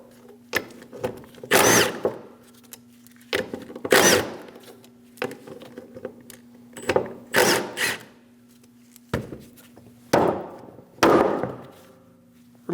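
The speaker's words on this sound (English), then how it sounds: "Using a 13mm socket, remove the 4 bolts for the fan." A 13mm socket wrench works the four radiator fan bolts on a 2003-2026 Chevrolet Express 2500 4.8L van, with repeated bursts of ratcheting clicks separated by short pauses and a faint steady hum underneath.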